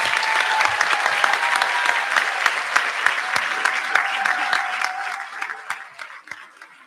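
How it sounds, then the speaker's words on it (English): A crowd applauds the graduating class of 2025 at a school commencement ceremony, sustained loud clapping that slowly thins out and fades. "how about a round of applause for the amazing class of 2025"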